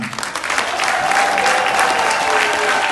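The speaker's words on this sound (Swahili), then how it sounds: "naomba tupige makofi tafadhali tena" Audience applause at an investment forum held in Sweden, a dense and steady round of clapping from a large crowd that carries on for the whole stretch with no voices breaking through.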